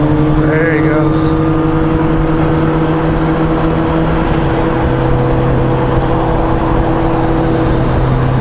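Car engine revving and pulling away on the road from behind a moving motorcycle, a steady loud drone with a shifting pitch partway through, set against constant wind and road noise.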